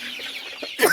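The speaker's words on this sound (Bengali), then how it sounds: "তো এখানে যে মুরগিগুলো রয়েছে আপনারা দেখতেই পাচ্ছেন।" Sonali chickens on a poultry farm give a few soft, scattered clucks at close range, and a louder burst of clucking and rustling comes near the end.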